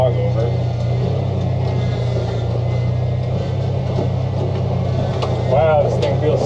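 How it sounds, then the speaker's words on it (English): An old Jeep engine idles in first gear, low range, during a test ride: a steady low rumble runs throughout, with people talking over it and a brief rattle near the end. "This is low range, and we're idling in first gear, low range"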